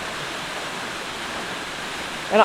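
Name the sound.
Rufus Morgan Falls waterfall splashing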